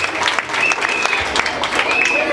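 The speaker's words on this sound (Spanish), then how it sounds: "Le damos un aplauso." Audience applause at a cholita pageant election in New York, a dense steady patter of many hands throughout, with a faint whistle-like tone on top.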